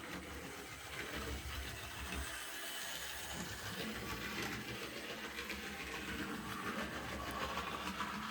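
A BR E2 tank engine model locomotive runs steadily, a continuous mechanical whir and rattle holding at an even level throughout with no pauses.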